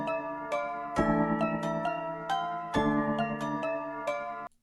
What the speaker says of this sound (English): Here I took the original sample and layered it on top of the piano, the ambient piano